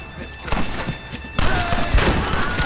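Gunfire rings out in a Red Dead Redemption shootout, heavy thumping shots and bursts spread across the clip, louder in the second half, with battle noise and shouting voices in the background.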